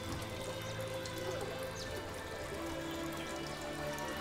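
Steady water from a spring-fed garden fountain spilling into a basin, a constant close splashing trickle with light drips, unbroken throughout and without voices.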